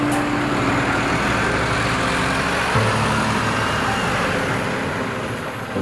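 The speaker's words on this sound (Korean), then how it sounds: "텅 빈 27번 버스도 차고지로 돌아가는 길." An empty city bus's engine rumbles steadily as it drives off, a continuous low road drone with no voices, fading slightly toward the end.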